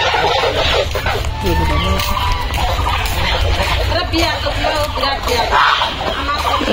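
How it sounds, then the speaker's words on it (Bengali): Geese packed into a goose house on a village farm cackle and call continuously at close range, a dense, loud clamour with people talking over it. "রাজহাঁসের ঘরে এগুলো সব রাজহাঁসে ভর্তি"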